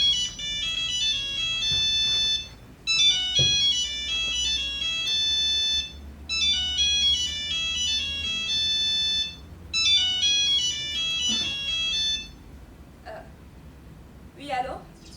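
A phone ringtone plays as four repeated melodic bursts of about two and a half seconds each, loud and close, with short gaps between them. Faint background noise sits underneath, and a voice answers at the very end.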